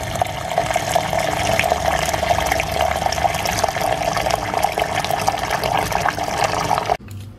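Water pours steadily and loudly into a container for several seconds, then cuts off abruptly near the end.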